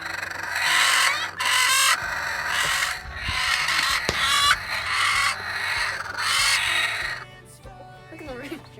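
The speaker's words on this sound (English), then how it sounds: "Look at the rooster." A rooster crows repeatedly in loud, close bursts among hens clucking on a chicken farm, with a brief higher call near the end.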